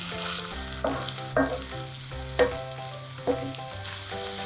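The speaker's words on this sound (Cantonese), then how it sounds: "將啲油回鑊，繼續用中細火炸啲紅蔥頭" Loud, steady sizzling from shallots, dried tangerine peel and fermented black beans frying over medium-low heat in a wok, with periodic scraping stirs and a background hum, no voices.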